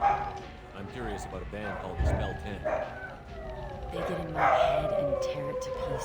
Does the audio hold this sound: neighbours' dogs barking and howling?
yes